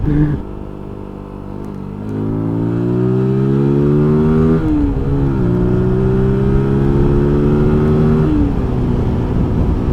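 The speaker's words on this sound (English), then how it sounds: "So much fun, the shifting, the clutch, the gearbox is really, it feels very, very soft, buttery soft and smooth." Engine of a Zontes U1-125 trail motorcycle on a test ride, revving up through a gear, dropping briefly at each shift and climbing again, loud and close with wind noise.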